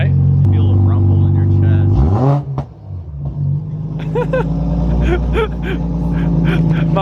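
A car engine after a 24-hour engine swap revs hard, a loud, deep droning idle that rises in pitch, drops away, then settles back into a strong rumbling note while people talk nearby.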